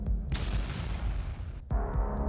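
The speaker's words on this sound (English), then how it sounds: "resulting in a powerful explosion." A powerful explosion from an FPV drone strike in a combat setting: a sharp blast bursts out, then a rumbling roar dies away, and a second thud follows near the end, heard without speech.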